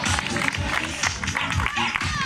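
Crowd clapping and cheering steadily for runners arriving at the finish of a night half marathon in Miramar, a dense continuous applause with a voice talking over it throughout.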